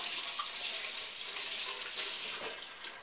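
A kitchen tap running steadily for a quick rinse, a soft continuous splashing stream with no talking.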